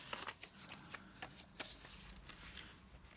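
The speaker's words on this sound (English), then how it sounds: "Let's put some of this coloured paper in here as well." Sheets of coloured paper are handled close up for a junk journal, making soft irregular rustles and crisp flicks at a low level, with no talk.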